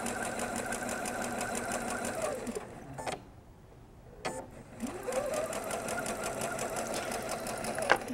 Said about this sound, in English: so that I can sew nice and straight.